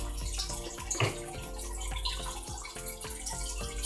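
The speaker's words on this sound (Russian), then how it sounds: "Журчит это у меня мой водопадик, не удивляйтесь." Small decorative waterfall on a veranda gurgling steadily, with continuous trickling water and soft rhythmic drips close by, heard alone without voices.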